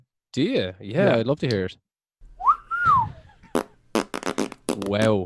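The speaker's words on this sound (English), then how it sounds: "That's the whistle that he actually lets out." A played recording of the reported shrill whistle of the Dobhar Chú lake creature rises and falls once between stretches of conversation, loud and clear.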